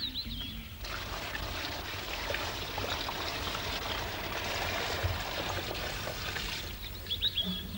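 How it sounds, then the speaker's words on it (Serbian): Water poured into a wooden barrel (kaca), a steady broadband splashing rush that runs alone for about six seconds before easing off. "Sada zalijem vodom."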